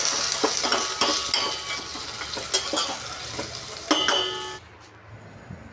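Hot oil sizzles loudly in a pan as a utensil stirs and scrapes with repeated clinks, then the sizzling fades to a quiet hiss.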